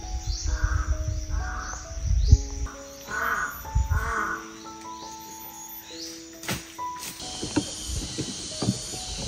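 A crow caws repeatedly, several harsh calls spaced a few seconds apart amid a coconut grove's outdoor ambience, with faint smaller bird chirps and scattered clicks in between.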